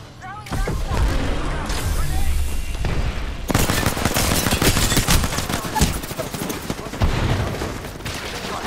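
Rapid bursts of automatic gunfire and explosions from a shooter video game, loud and continuous with dense volleys and sharp cracks, a quieter stretch early then heavy sustained shooting.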